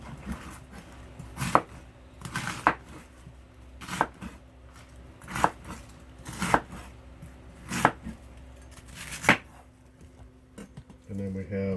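Cabbage being chopped on a board as feed for Dubia roaches: a series of sharp, distinct knife strikes at an uneven, unhurried pace, close and fairly clear, with faint background noise between the cuts.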